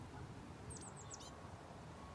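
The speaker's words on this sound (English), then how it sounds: "Can you hear those bird sounds?" Faint, high bird chirps from hedgerows flicker briefly over a steady wash of outdoor background noise, distant and quiet.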